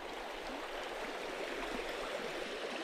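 Creek water flows and ripples steadily throughout, a continuous close broadband rush of a stream with no voices over it.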